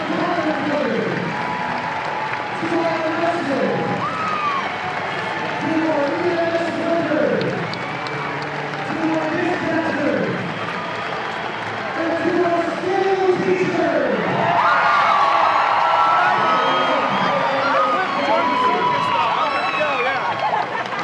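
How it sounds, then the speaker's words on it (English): A baseball stadium crowd at a Savannah Bananas game applauds and cheers in a steady roar, with an announcer talking energetically over the noise throughout. "it always fires me up to hear the raucous applause for the teachers"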